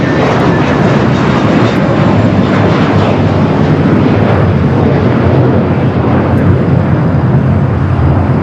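An airliner takes off at LAX: a loud, sustained broadband engine roar fills the whole span without a break.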